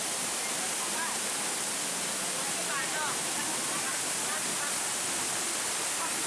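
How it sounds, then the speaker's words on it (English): The Edessa waterfall in Greece pours with a loud, constant broadband rush that stays close and even for the whole stretch, heard from near the falling water. "And yes, you can even go behind the waterfall!"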